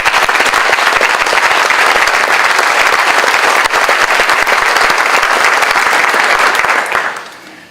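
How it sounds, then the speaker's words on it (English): Loud, dense applause from a large audience at a school district honors night, continuous clapping at full volume for several seconds before fading out quickly at the end. "Give these folks a round of applause."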